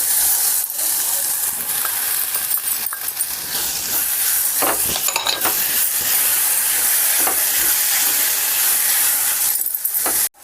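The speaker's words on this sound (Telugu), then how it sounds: "బాగా ఫ్రై అయిపోతుంది కదా" Urad dal curry frying in a pan, a steady loud sizzle and hiss with occasional stirring scrapes and clinks, close up, ending abruptly.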